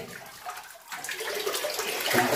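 Water splashes and sloshes inside a flooded cave, close by and continuous, growing louder and busier after the first second.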